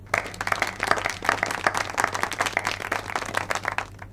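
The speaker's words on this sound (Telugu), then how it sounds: "అతనికి క్లాప్స్ కూడా." Applause from a group during an office scene in a film, as coworkers clap for an employee; dense, steady clapping continues at moderate loudness across the whole stretch, with no clear talk over it.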